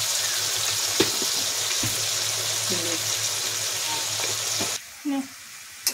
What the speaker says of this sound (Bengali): এখন মাছের ঝালের জন্য একটা আলু ভেজে নেব।